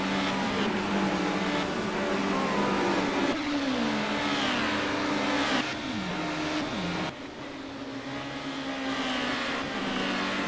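Race cars in a touring car racing video game, a VW among them, accelerate hard on a high-speed ring, engines droning and rising in pitch through the gears, several cars overlapping continuously and loudly with no talk.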